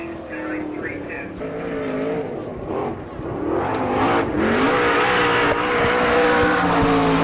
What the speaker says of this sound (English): And Barry will take the green.